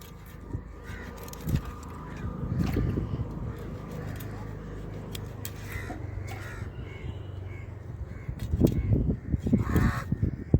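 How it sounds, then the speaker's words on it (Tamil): Crows caw in scattered, sharp calls around a seaside eatery in Rameswaram, heard over a bed of background chatter, clattering and low traffic rumble, with a louder burst of activity near the end. "காக்கா தலைவர்லாம் வந்துட்டாங்க எல்லாரும் சாப்பிட்றதுக்கு"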